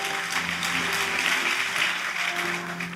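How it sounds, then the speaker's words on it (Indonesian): A church congregation claps during a Sunday worship service, a full, even wash of applause held for a few seconds with a faint tone humming underneath. "tepuk tanganlah Tuhan Yesus."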